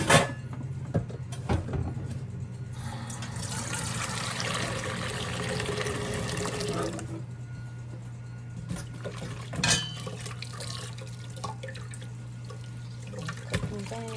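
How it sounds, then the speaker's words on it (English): Stand mixer parts washed under a running kitchen tap, a steady gush of water with clinks and knocks of bowl and attachments, close by, with a little faint voice. "I wash up everything else from my stand mixer"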